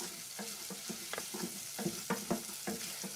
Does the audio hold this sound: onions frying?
yes